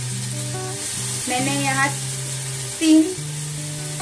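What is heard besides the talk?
spice paste with ginger and green chili frying in pan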